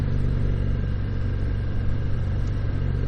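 A 2019 Harley-Davidson FXDR motorcycle engine while riding, giving a steady low, throbbing rumble that stays close and loud with even pulses and no talking.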